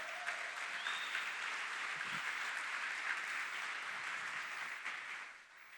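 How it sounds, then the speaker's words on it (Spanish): A church congregation applauds the Lord during a sermon on the resurrection, producing a dense, sustained wash of clapping at moderate distance that holds steady before thinning out near the end. "Denle un fuerte aplauso al Señor."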